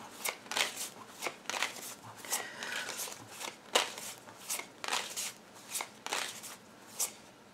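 A Kipper fortune-telling card deck is shuffled by hand, producing a steady series of crisp riffling snaps roughly every half second, close and fairly quiet with no talk.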